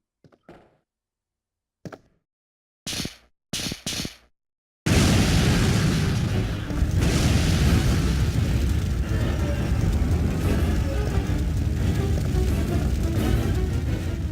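Explosion in Resident Evil 3: Nemesis: a few brief thuds and knocks give way to a sudden loud blast that swells into a long, dense roar of rumbling debris and fire filling the rest of the clip.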